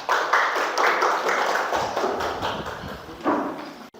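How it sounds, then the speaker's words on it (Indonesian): Classroom applause for a student group, a short burst of clapping from a small class that starts strong, fades, and then picks up briefly again before stopping. "Tepuk tangan untuk kelompok 1."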